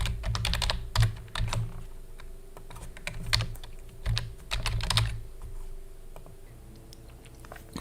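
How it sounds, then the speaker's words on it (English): Keys on a computer keyboard are tapped close by as a password is entered, irregular clusters of light clicks in short bursts with brief pauses between them. "And here I'll type in the password."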